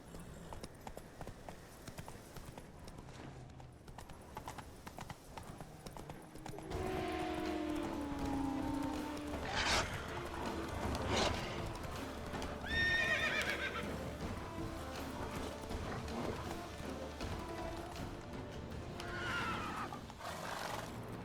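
Roach the horse in The Witcher 3 video game galloping with steady clip-clop hoofbeats and letting out several loud neighs and whinnies over the running rhythm, close and clear after a quieter opening.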